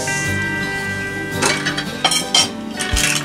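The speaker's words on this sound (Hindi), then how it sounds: "तो अब मैं लिड हटा रही हूँ।" A metal lid is lifted off a cooking pot of rajma masala, making a few sharp clanks and clinks that are loud and close, with a steady kitchen hum underneath.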